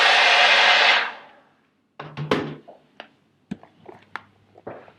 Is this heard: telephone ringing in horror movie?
no